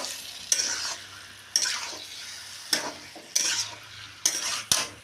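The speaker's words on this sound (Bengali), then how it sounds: "মাংস দিয়ে একটু নেড়ে চেড়ে নিলাম," Chicken pieces sizzling in a kadai for biryani while being stirred, with a steady frying hiss broken by five or six sharp scraping strokes of the spoon against the metal, close up and with no voices.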